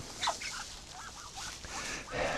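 Short, hoarse quacking calls from a small duck, several bursts in quick succession at close range over a quiet background, in a backyard setting with chickens and Canada geese nearby.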